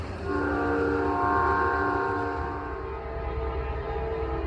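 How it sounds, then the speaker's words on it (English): Amtrak 30 passenger train passes at Chesterton, Indiana in the evening, a loud sustained horn chord over rolling wheel rumble, steady and close throughout. "the train that we've been waiting on all evening. Amtrak 30 had nothing special today"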